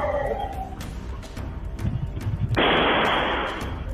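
Gunshots are fired at burglars breaking into a house in San Justo, Argentina: several sharp cracks at irregular intervals, fairly distant, followed by a loud, steady rush of broadband noise.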